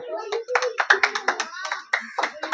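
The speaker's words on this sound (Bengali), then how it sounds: "জোরে হাততালি দাও" People clap loudly in a string of sharp, uneven slaps during a ring-toss prize game, mixed with lively voices of children and adults talking over them.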